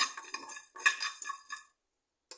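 Cumin seeds dry-roasting over low heat in a pan for a pickle: a short flurry of small, close crackles and light clinks for about two seconds, then quiet and one last tick.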